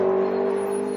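A car passes close by on a residential street, its steady engine drone fading slightly over a second with a sustained tonal hum.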